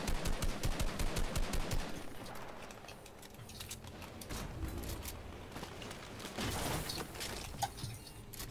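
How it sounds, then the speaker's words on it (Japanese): A quick series of rapid gunshots in Fortnite Team Rumble at the start, then quieter scattered shots and clanks over a low rumble. "やばい、銃声してんねこれ。"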